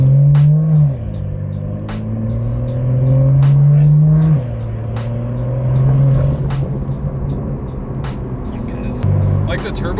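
A BMW M2 fitted with a catless downpipe drives under load, its engine note rising and falling through gear changes with turbo spool, heard from inside the car while people talk over it.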